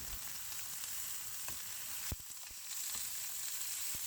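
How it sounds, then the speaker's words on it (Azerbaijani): Chicken breast pieces seasoned with salt, pepper and spices, frying in a little oil, a steady close sizzle with a few sharp crackles and a brief stirring clatter. "Duz, istivot, ədviyyatlar qatıb azca yağda qızardırıq."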